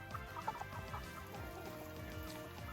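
Free-range native Korean chickens on a farm cluck softly in short, scattered calls under a low background bustle, fairly faint and close by.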